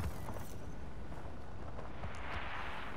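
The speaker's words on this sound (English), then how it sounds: "It's a slight explosion." An explosion in the video game Just Cause 4 rumbles as a dense, sustained roar with scattered cracks and pops, holding at a steady loud level for the whole stretch.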